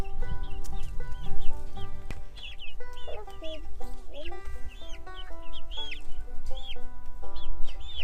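Baby chicks peep and chirp over and over in high, rapid calls, fairly close, with a low steady rumble underneath.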